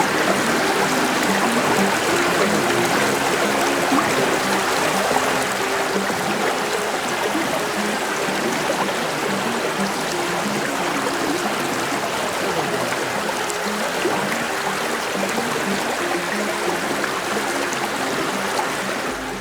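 River water rushes steadily past Avanippara in Konni, Pathanamthitta, a close, unbroken broadband wash of flowing current with no pauses and no voices.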